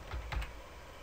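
A few quick keystrokes on a computer keyboard, close and fairly soft, with light clicky taps in a quiet office setting.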